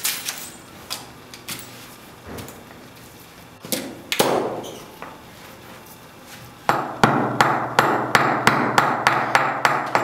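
A slag hammer's razor end beating on wood to distress a finish, producing sharp repeated strikes that start sparse and irregular, then settle into a loud, steady rhythmic series of close impacts.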